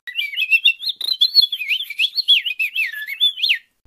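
A fast, warbling whistled melody mimicking a purple finch's song, a continuous tumbling run of bright rising and falling notes, close and clear.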